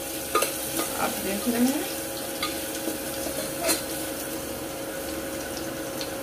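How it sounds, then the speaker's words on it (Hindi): A medium onion fries in hot oil in a pan for a quick raw-potato curry, giving a steady close sizzle with scraping stir strokes. A voice speaks briefly over it. "थोड़ी सी इसे भून लेंगे हल्की गुलाबी हो जाने तक।"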